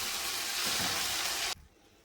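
Amaranth leaves and moth beans sizzle and hiss loudly in a frying pan as they are stirred, a close, steady crackle that cuts off abruptly after about a second and a half.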